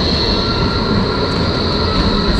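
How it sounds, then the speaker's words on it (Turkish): A train rumbles past close by on a Berlin street, a loud continuous roar with a high metallic whine from the wheels. "Ve tren geçiyor."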